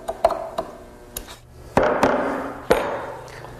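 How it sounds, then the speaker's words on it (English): Mortising chisel chopping into wood to clean out the corners of a router-cut recess: a series of sharp, distinct mallet-driven strikes, some lighter and some heavier, close and clear with short pauses between blows. "Then using a mortising chisel, I'll clean all these corners up."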